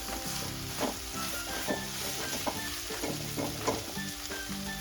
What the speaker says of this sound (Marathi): आपल्याला मटकीमध्ये अगदी व्यवस्थित असा खमंग भाजून घ्यायचा आहे